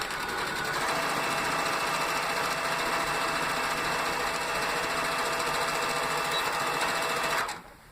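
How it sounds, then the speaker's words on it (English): Sewing machine stitching a seam on a rag quilt, a fast steady mechanical whirr and rattle running for several seconds before stopping abruptly near the end. "Now we're just going to sew on the line on both of these sides."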